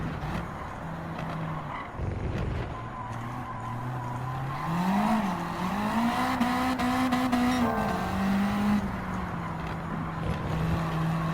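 A Garage RCR Honda Civic EG race car in Gran Turismo 7 at Tsukuba Circuit, its engine droning steadily close by, pitch dropping under braking, then climbing and holding as the throttle opens through the corners, with faint tire scrub.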